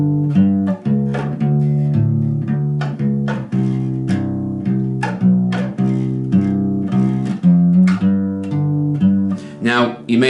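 A walking bass line is played on bass guitar in a jazz style, with clear, evenly paced plucked notes stepping through the progression and a short eighth-note run near the end, heard up close without talk.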